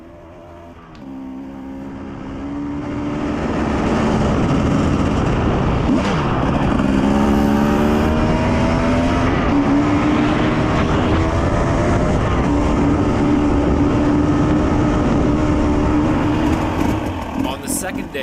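A Husqvarna TE250 two-stroke dirt bike engine revs and climbs while riding a forest service road on Vedder Mountain, a loud close buzzing drone with rising and falling pitch that swells after the first seconds and holds.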